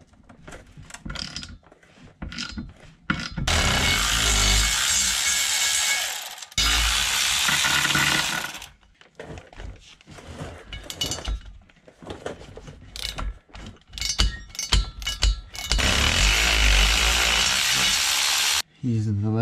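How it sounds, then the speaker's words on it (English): An electric ratchet whirs in loud sustained bursts while removing the rear subframe from a BMW E46 wagon, with short clicking ratchet strokes and metallic knocks between runs and someone talking in between. "Using the electric ratchet like an actual ratchet."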